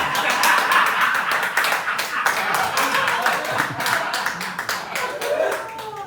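Comedy club audience at Philly on the Rocks breaks into steady, dense applause with scattered claps and some crowd chatter, loud and sustained throughout.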